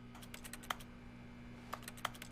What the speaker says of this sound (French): Quand j'appuie sur eux, on dirait un bruit de clavier, c'est marrant.